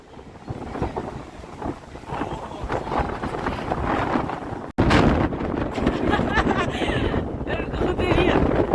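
Strong wind buffets the microphone with a constant roaring rumble, briefly cutting out once, while muffled voices are faintly heard underneath.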